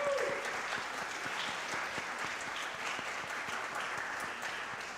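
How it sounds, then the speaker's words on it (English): A church congregation at Cedar Lane claps steadily to welcome newcomers during a service, a dense, even wash of applause that holds at a moderate level for the whole stretch. "how about we just clap it up for them"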